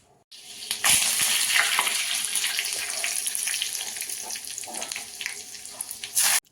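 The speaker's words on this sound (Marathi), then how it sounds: "आता तडक्यासाठी कोथिंबीर कढीपत्ता मिरची मोहरी आणि थोडंसं हिंग ह्याची फोडणी देणार आहे" A tempering of coriander, curry leaves, chilli, mustard seeds and asafoetida hits hot oil, giving a loud, steady hissing sizzle that holds for several seconds, with a sharp crackling burst near the end.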